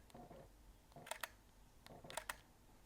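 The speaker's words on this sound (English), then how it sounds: "The hybrid sound for this leaf shutter is really quiet anyway and actually quite nice." A Leica Q3 leaf shutter firing in hybrid mode, heard as two quiet pairs of crisp mechanical clicks about a second apart over low room hiss.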